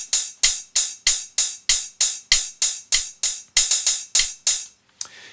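Playback of a recorded MIDI hi-hat groove: a steady run of bright, close hi-hat ticks, roughly twenty strikes with a few quick doubles, playing alone before a brief pause and a final soft hit.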